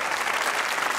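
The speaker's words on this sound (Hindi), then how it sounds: "ये तालियां होनी चाहिए।" An audience claps steadily, a dense, even burst of applause heard up close for a brief moment.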